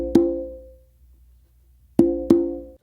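Conga open tones ring out, one sharp resonant slap first, then after a pause two more in quick succession, each with a short decaying pitched ring, close and clear with no talking.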